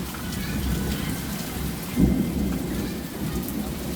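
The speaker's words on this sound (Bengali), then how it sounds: "এটার জন্য মেঘ ডাকতেছে আর বৃষ্টির শব্দ অনেক শব্দ" Heavy rain pours steadily during a hot-season storm, with a low roll of thunder rising near the middle; the downpour stays loud and close throughout, with no voices.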